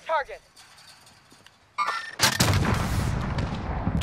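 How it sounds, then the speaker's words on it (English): A rocket launcher in a video game fires, and a loud, sharp explosion follows, a dense crackling blast that keeps rumbling and fizzing to the end after a few quieter game sounds. "What was that explosion then? Was that your Stella? That was my rocket launcher, yes."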